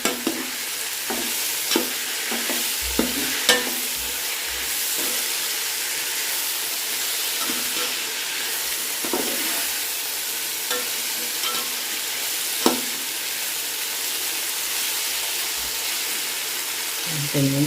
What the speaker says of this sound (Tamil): நல்லா காயெல்லாம் நல்லா வதங்கட்டும்.